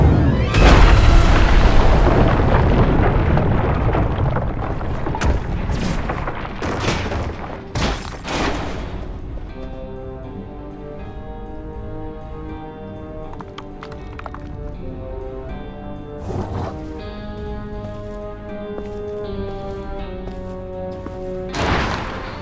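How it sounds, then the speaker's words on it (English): An alien ship being destroyed and exploding in Destroy All Humans!, with loud booms and crashing bursts early on, then a ringing musical drone punctuated by further sharp impacts. "Ship has somehow been destroyed, and I've been blown to smithereens."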